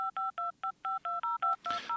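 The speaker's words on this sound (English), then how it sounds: "Here are the DTMF tones," Telephone DTMF dialing tones from a Foley sample library: nine short, clean two-tone beeps in a quick, slightly uneven sequence, loud and close, ending with a brief rustle.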